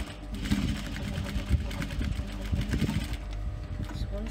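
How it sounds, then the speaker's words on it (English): An industrial sewing machine top stitches a fabric clutch purse, running in short, uneven bursts with small thumps, close and clear. A voice can be heard faintly underneath. "just top stitch to keep the pieces neat."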